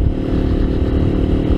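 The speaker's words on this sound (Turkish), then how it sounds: "5800 liralık bir motora biniyorum." A Kuba Çita 180 R Gold motorcycle engine runs with a steady, close, rough low drone and a continuous mechanical clatter that holds level throughout, no speech over it.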